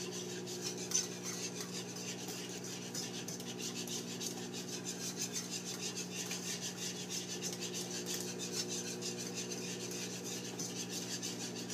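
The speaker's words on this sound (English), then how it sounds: "And I'm constantly stirring." A whisk stirs milk and butter gravy in a pan, a continuous soft scraping and rubbing with a steady rhythm that runs the whole time at moderate, close level. No one speaks.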